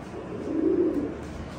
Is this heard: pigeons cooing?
yes